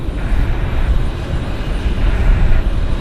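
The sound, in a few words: airplane at Vancouver airport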